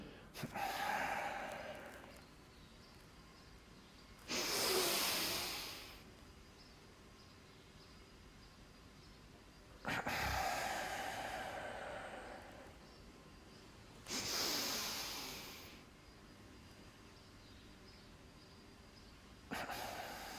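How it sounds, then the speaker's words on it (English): Forceful double breathing with tension from the Yogananda energization exercises: four loud broadband bursts of sharp inhale-exhale breath at roughly five-second intervals, close and alone, with quiet pauses between. "35 is number 1, the original one, double breathing with tension."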